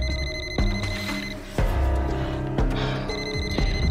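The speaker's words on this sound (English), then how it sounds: "Whose phone is that?" A mobile phone rings with a loud bell-like trilling tone that repeats in steady bursts about once a second, close and continuous with no talking over it.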